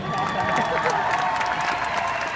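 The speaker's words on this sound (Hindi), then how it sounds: "जोरदार तालियां इनके लिए।" A studio audience at a comedy show breaks into loud, sustained applause, a dense and even wash of clapping with a few cheers mixed in.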